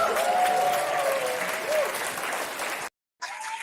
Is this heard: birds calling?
no